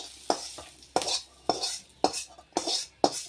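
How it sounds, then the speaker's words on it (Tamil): Sautéed ingredients being scraped out of a pan into a mixer jar, six sharp rhythmic scrapes of a metal spoon, close and clear with no voices. "இப்போ நம்ம வந்து இதை ஒரு மிக்சி ஜாரில் வந்து சேர்த்துக்கலாம்"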